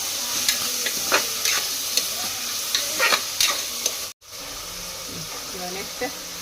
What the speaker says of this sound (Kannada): ಹಾಕಿ ಇವಾಗ ಮತ್ತೊಂದು ಸಲ ಚೆನ್ನಾಗಿ ಮಿಕ್ಸ್ ಮಾಡ್ಕೊಳ್ಳಿ